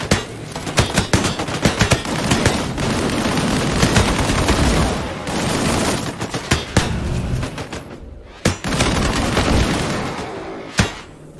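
Rapid bursts of primary-weapon gunfire from the PC video game Disintegration, loud and near, with booming impacts and explosions layered through the firefight and brief pauses between volleys.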